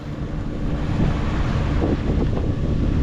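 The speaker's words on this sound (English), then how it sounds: "we got about 6 knots of wind filling in right on the nose" Steady wind buffets the microphone on a boat at sea off Point Vicente, with a light headwind, producing a continuous low roar and faint water wash beneath it.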